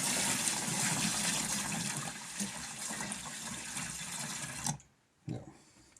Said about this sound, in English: So I get my bucket of fresh water.